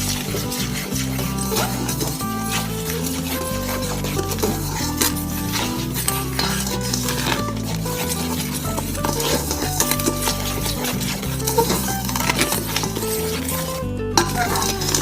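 A spatula stirs three kinds of flour, including tapioca flour, together in a bowl for a chewy banana dessert, giving continuous scraping and light clinking against the dish at steady, close range.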